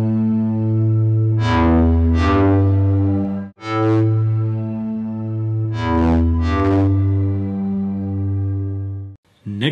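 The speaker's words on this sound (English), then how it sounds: "This plugin here is called Corrosion. It's a distortion plugin." A Korg Minilogue XD-family synth run through the Corrosion distortion effect plays gritty, buzzing sustained notes with sharp bright attacks on each change, loud and alone, a short gap midway and an abrupt cutoff at the end.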